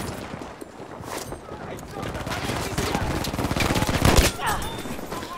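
Sniper rifle fire in Battlefield 5's Outpost mode, with dense gunfire and explosions from a busy firefight, a heavy blast standing out near the end and a voice talking over the battle.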